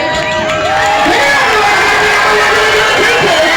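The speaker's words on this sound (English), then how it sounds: "The louder you scream and cheer, the faster these pigs will run." Loud crowd screaming, whooping and cheering at a pig race, a dense continuous roar of voices with children's shouts rising above it throughout.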